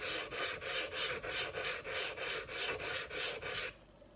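A stainless Opinel knife drawn across a whetstone to set a micro bevel gives a dozen close, even, rhythmic rasping strokes. After the last one the sound stops abruptly into near silence.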